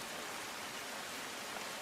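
Heavy monsoon rain in Valsad district, Gujarat, a dense, even hiss of downpour with no breaks, faint and continuous, heard alone without voices.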